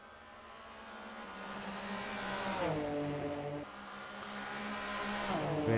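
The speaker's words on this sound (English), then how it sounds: "Very nice sounding cars." Ford Mondeo touring race cars of the 1990s in a racing sim, engines droning and rising in pitch through the gears, a gear change midway, then accelerating again, steady and fairly close.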